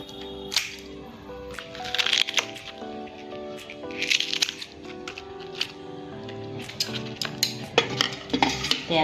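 Crisp papdi for papdi chaat is snapped into pieces over a bowl, with repeated sharp cracks and crunches and some clinking of dishes, close and fairly loud, with no talking.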